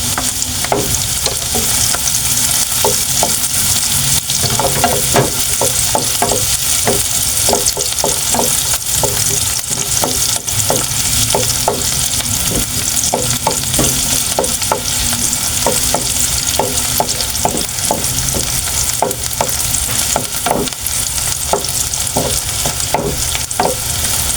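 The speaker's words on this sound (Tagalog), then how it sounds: "mainit na yung ating mantika. So igisa na po natin. Sabay na natin yung bawang at sibuyas." Garlic and onion sautéing together in hot oil for a Filipino ginisang patola with shrimp, a steady loud sizzle throughout with frequent clicks and scrapes of a spatula stirring the pan, no talking.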